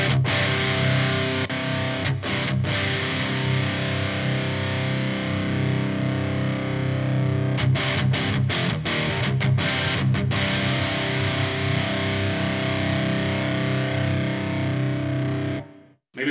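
Heavily distorted electric guitar through the OD2 overdrive channel of a Marshall JVM410 head plays sustained chords with a few choppy muted stops, loud and continuous, then cuts off abruptly at the end.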